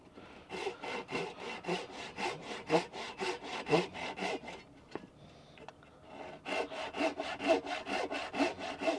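A hand saw rasps steadily back and forth through wood for an axe handle in a quick, regular rhythm, pausing briefly midway before resuming, close and loud.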